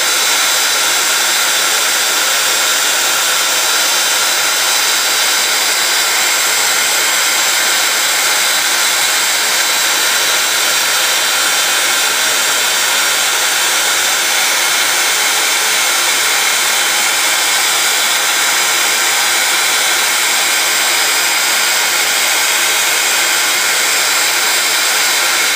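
A heat tool blowing hot air for embossing, a loud, steady, close-up hiss and whoosh that runs unchanged throughout.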